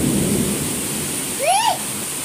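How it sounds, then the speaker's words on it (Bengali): Rain pours after a long hot spell, heard from a balcony as a steady close hiss with a low thunder rumble underneath, and a brief high-pitched vocal sound rises and falls near the middle. "অনেক গরমের পরে আমাদের এখানে বৃষ্টি না শুরু হয়ে গেছে"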